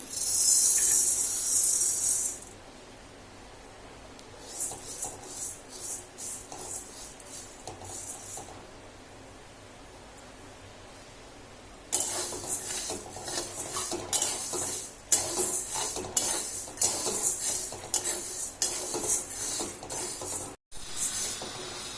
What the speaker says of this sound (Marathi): आता आपण मूग भाजून घेऊ.